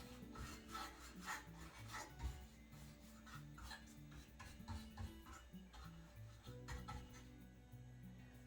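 Wax is rubbed by hand into the crevices of upcycled wall decor, making faint, rhythmic rasping and rubbing strokes that repeat closely without talk.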